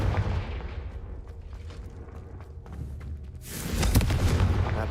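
A fire-blast spell from Hogwarts Legacy bursts in a deep booming explosion with a rumbling tail, then a second, brighter crackling blast near the end, loud over faint ambient noise.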